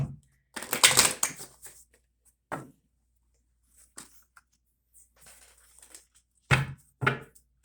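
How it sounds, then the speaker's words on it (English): A few bursts of crisp tarot card riffling and shuffling, each lasting about a second, separated by quiet pauses, close and fairly soft. "One more shuffle."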